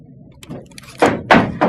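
A locked door in a tenth-floor building being tried, with a few soft knocks followed by three firm rattling thunks of the handle and door against the frame, close and alone.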